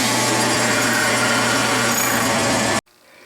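A 5/16 drill bit cutting a hole on a Bridgeport milling machine gives a steady, loud whirring grind with a low motor hum, cutting off abruptly near the end to near silence.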